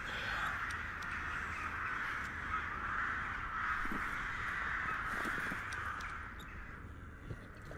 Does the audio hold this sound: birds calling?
yes